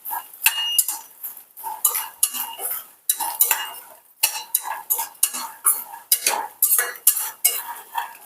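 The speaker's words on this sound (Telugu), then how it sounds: "వేసిన తర్వాత ఇలా కలుపుతూ ఉండాలండి, మాడిపోకుండా ఉంటాయి" Makhana (lotus seeds) fry in ghee while a spoon stirs them against the pan, producing repeated rhythmic scraping and clinking strokes over a soft sizzle, close and fairly loud.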